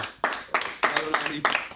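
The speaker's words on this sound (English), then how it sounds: "If you want to give me a round of applause now." An audience at a car dealership staff party claps in short irregular bursts, a few close hands rather than a full crowd, with a voice speaking over the clapping.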